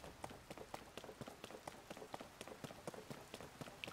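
Quiet, steady rain patter in The Legend of Zelda: Tears of the Kingdom, with rhythmic soft taps, likely footsteps, running through it at an even pace.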